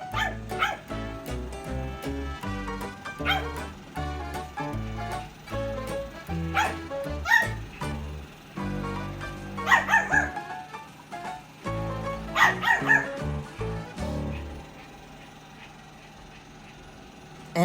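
A small pampered dog lets out a run of high yips, short barks and whimpers in quick, uneven bursts, close and fairly loud, broken by brief pauses.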